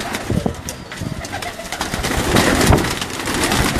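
Pigeons given by Safdar Iqbal Tentawala of Lahore coo in a steady low murmur, with several birds overlapping near and far, while someone talks loudly over them at times.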